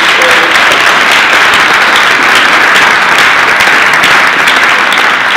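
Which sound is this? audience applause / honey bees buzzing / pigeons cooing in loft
audience applause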